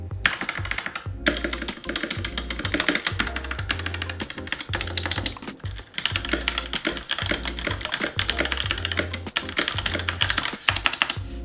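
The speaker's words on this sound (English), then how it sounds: "we're gonna do a typing test so you guys can hear what this thing sounds like" Rapid, continuous typing on a Logitech K845 mechanical keyboard with Cherry MX Red switches, a dense close-up clatter of keystrokes with heavier thumps from larger keys, no voices.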